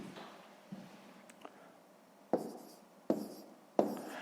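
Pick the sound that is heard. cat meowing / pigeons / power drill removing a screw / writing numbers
writing numbers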